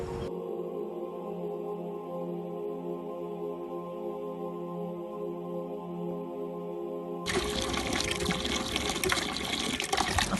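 Water gushes from a hand-pumped tube well in Sri Lanka, starting as a steady tonal hum and flow, then turning into a loud, broad splashing rush near the end, with no voices.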